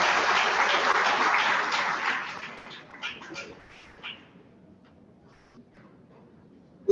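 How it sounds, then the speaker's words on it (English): Conference audience applauding as a man comes up to the stage, a dense burst of clapping that fades out over a few seconds, leaving scattered claps and a faint murmur. "Let's give Dennis a round of applause as he comes up."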